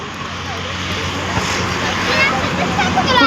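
Aircraft engine noise at an airport as a large airplane moves onto the runway, a steady broadband roar with a faint low hum that swells slightly toward the end, heard from a distance with no clear talk over it.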